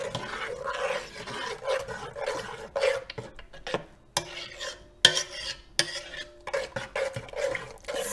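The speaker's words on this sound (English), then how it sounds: "we're just going to give that a stir" A spoon stirs the sauce for a lamb meatball and feta pasta bake in a pan, making close, scraping and clinking sounds in irregular strokes with a few sharp knocks against the metal.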